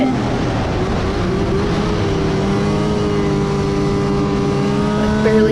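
A snowmobile speeds along a snowy Northern Michigan trail with patches of dirt, its engine roaring close and loud as the pitch climbs steadily under acceleration.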